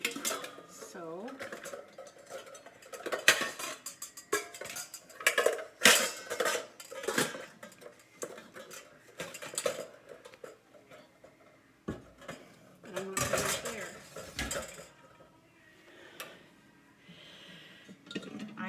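Metal pots, pans and lids clank and scrape as a cluttered kitchen cupboard is sorted, coming in irregular bursts of close clattering with quieter pauses and soft handling noises between.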